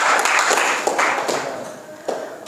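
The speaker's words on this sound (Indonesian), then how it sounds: "Beli aplaus dulu buat Rizal presentasinya" A classroom group applauds a student's presentation on starter wiring in a short burst of dense clapping that starts full and gradually thins out.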